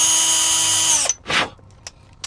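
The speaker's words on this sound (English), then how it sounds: "What I tend to do though is I use a M5 tap." A powered driver runs an M5 tap into a 3D-printed part, a loud steady high whine for about a second that winds down, followed by a short burst and a couple of faint clicks.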